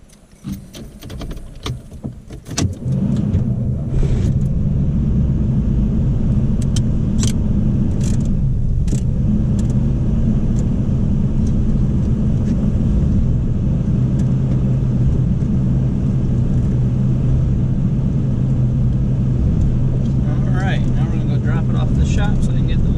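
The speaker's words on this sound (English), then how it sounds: "I think that MagnaFlow sounds pretty good." A 1988 Camaro engine fitted with a MagnaFlow exhaust drones loudly and steadily for most of the stretch after a brief rough start, with faint rain and outdoor noise around it.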